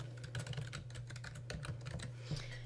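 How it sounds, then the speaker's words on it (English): Fingers type an email address on a computer keyboard, a quick run of close, crisp key clicks with brief pauses between bursts and no voices. "To add a recipient who you haven't sent an email to before, just type out their full address."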